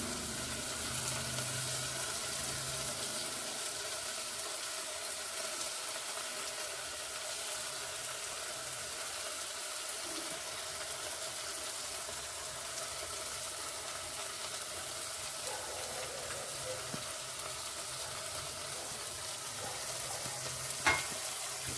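Hyacinth beans (avarekalu) frying in a pan with ground spices, turmeric, sambar powder, peanut powder and sorghum flour: a soft continuous sizzle with occasional stirring scrapes, steady and fairly quiet throughout.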